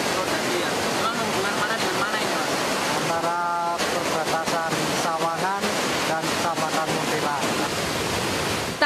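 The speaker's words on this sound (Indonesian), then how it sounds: "warga turut memantau arus banjir dari atas jembatan Surodadi, Sawangan, Magelang." Lahar flood water from volcanic rain rushing down a river under a bridge in Magelang, a loud continuous roaring wash, with people speaking over it at times.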